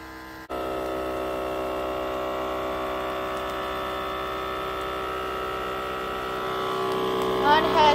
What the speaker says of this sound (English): Mine has a little thing here, it says progress, so this is vacuuming